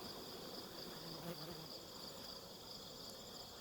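Honey bees buzz steadily inside and around an open hive, a close, continuous insect hum with a high whine layered on top, holding even for the whole stretch.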